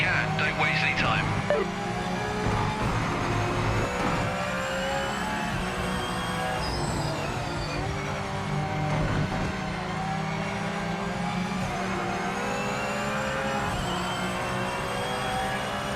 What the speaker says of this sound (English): This car sounds nice too.